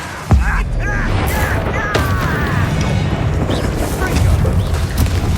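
Explosive spells in Hogwarts Legacy: a heavy boom at the start, then crackling magical blasts, whooshing streaks and rumbling impacts in chaotic combat, with a voice calling out over the din.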